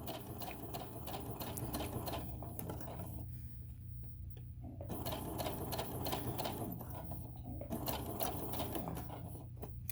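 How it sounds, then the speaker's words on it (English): A sewing machine runs a straight seam on a tote bag in fast, even rattling bursts, pausing briefly midway before resuming, close and steady with faint background hum. "now I am just adjusting my raw edges, and I'm continuing to stitch straight"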